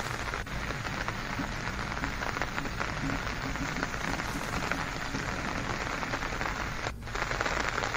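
Heavy, steady rain pours down in Rajouri district, Jammu and Kashmir: a loud, dense, unbroken hiss of drops striking surfaces, with no voices.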